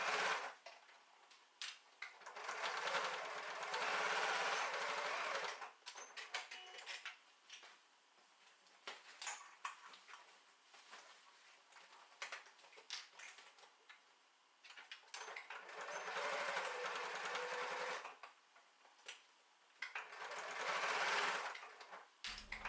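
A sewing machine stitches the corners of a tote bag at a quarter-inch seam allowance, running in two long, steady motor bursts separated by pauses with light handling clicks and no talk.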